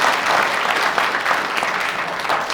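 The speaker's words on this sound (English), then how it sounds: "So big round of applause for you." An audience at an MBA induction event gives a round of applause, dense continuous clapping held at an even level from start to finish.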